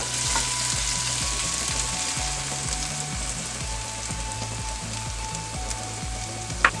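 Eggs poured into a pan of cooked tomato masala sizzle and fry steadily, a dense continuous crackle with faint stirring scrapes, close and without talk.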